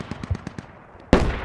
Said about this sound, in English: That's a 30mm, and he's got it.